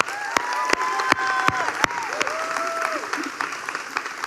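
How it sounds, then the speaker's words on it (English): Audience applause at a church service, a few distinct sharp claps over a noisy crowd with overlapping voices and a steady, moderately loud hum throughout. "So could you guys give a huge round of applause for Jesus Prairie?"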